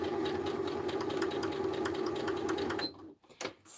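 A sewing machine stitches fabric scraps into craft embellishments, running in a steady, fast mechanical whir close by before stopping abruptly near the end, followed by a few faint handling clicks.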